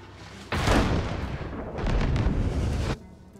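Heavy cannon fire from ships in the naval combat game Abandon Ship, a loud rumbling barrage of booms that starts abruptly, swells again midway, then cuts off to a quieter background.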